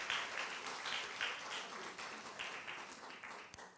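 Audience applause at a church thanksgiving service, steady rhythmic clapping from many hands filling the room for several seconds, moderately loud and without voices.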